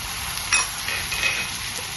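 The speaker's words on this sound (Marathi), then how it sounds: "हे पहिले परतवून घेऊया, कारण हे पूर्णपणे कच्चे आहेत। स्वीट कॉर्न टाकते मी," Sweet corn sautéing in a pan alongside raw carrots for corn rice, giving a steady close sizzle with a brief scrape of stirring partway through.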